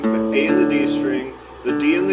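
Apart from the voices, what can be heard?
No everyday noise stands out behind the speech.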